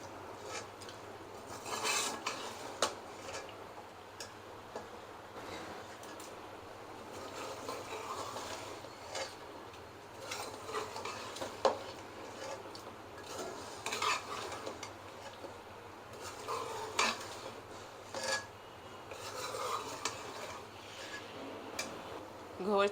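Mutton being roasted with coarsely ground spices in a pot, continuous stirring and scraping with irregular rasping strokes and occasional clinks of the utensil against the pot, close by and moderately loud throughout, with no voices.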